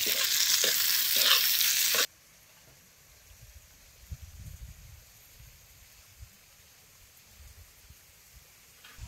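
Onions roasting and sizzling in a pan on a wood-fired stove. A loud, bright crackle with stirring comes first and then cuts to a much quieter, low background.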